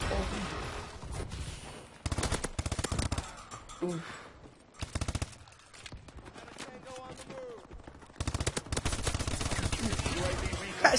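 AK rifle firing in the shooter game Call of Duty: Advanced Warfare, rapid automatic bursts in several loud stretches separated by short pauses, with a player talking between the volleys.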